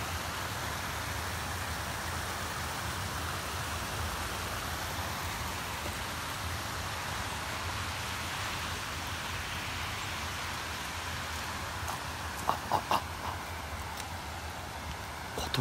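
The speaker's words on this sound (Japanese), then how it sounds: "山の音が、あ、川の音が。" Steady broadband rushing of a mountain river, continuous and close, with a few faint bird chirps near the end.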